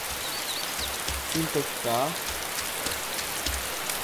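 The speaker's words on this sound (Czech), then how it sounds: "to fakt prší, to je nepříjemný" Steady rain pours down in the survival game DayZ, a dense even hiss that fills the whole stretch while voices talk briefly over it.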